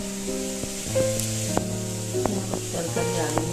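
Potatoes and curry frying in a pan for a home breakfast give a steady, close sizzle throughout, with a few light clinks and tonal sounds in the background.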